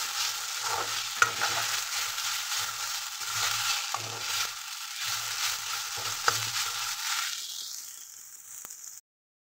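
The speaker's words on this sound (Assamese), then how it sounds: "এতিয়া অলপ সময় লৰাই লৈ কাটি দিম, যাতে এইখিনি ধুনীয়াকৈ সিজি উঠে।" Fish with turmeric and salt sizzles in a hot pan while being stirred and turned, a continuous close frying hiss broken by soft scrapes and clacks of the spatula, fading out near the end.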